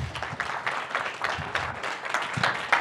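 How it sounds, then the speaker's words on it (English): An audience claps after a team's discovery summary presentation at a summit, a fairly quiet, brief round of applause with uneven bursts of hands. "but first round of applause. That was great."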